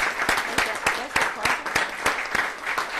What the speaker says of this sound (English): Let's give these young folks a big round of applause.